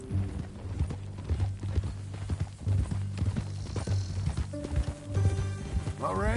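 Horse hooves clip-clop steadily with brief neighing in a PS4 Western game, layered over a low music bed while characters talk.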